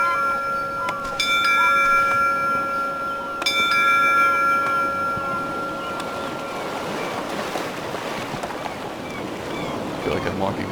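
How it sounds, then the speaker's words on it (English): Departure bell in the video game Leaving Lyndow, struck twice a couple of seconds apart, each strike ringing and slowly fading over a soft bed of sea and wind ambience. "The bell will sound soon."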